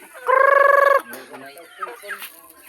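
A chicken on a rural Filipino household farm gives one loud sustained squawk-like call, like a cackle or crow, then quieter scattered clucks and rustling follow, close by, with no talk.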